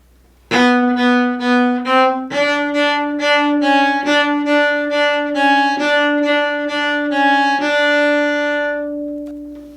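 A bowed cello plays a sequence of short detached notes in a clipped sixteenth-note rhythm from Beethoven's Minuet in G, each note crisply articulated and resonant, with no talking.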